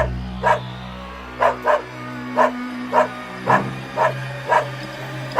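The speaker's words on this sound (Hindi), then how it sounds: "तुम पंडित जी की तरफ देखकर क्यों भौंक रहे हो?" A dog barks in short, evenly spaced single woofs, about ten in a row, over a steady low hum.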